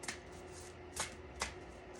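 Moonology oracle cards being shuffled, with three crisp riffling bursts of card noise close by over a faint steady background hum; no voices.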